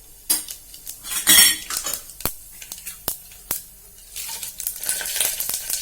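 Mustard seeds and cumin hit hot oil for tempering a Telugu tomato dal, a bright crackling sizzle with sharp metallic clinks of a spoon against the pan, several loud taps standing out, no talk.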